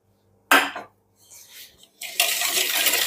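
A utensil scrapes and clinks against a bowl while stirring apricot clafoutis batter with melted butter mixed in. A sharp clatter comes first, then softer scraping, then a steady, louder stirring swish near the end.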